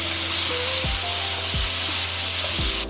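Cumin, garlic ginger paste and green chilies fry in hot oil with a loud, steady sizzle, broken by a few short scraping stirs of a spoon.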